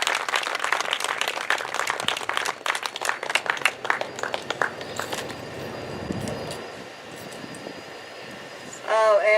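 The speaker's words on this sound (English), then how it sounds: "Let's have a round of applause" An outdoor crowd applauds at a Boston lighthouse keeper's retirement ceremony, with steady clapping and cheering that builds, then fades into quieter ambience.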